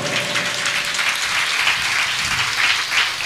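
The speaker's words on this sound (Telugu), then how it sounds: "కొట్టుగట్టిగా చప్పట్లో" An audience at a Telugu Christian gathering applauds, a dense, steady wash of many hands clapping that holds at full strength for the whole stretch, with no talk over it.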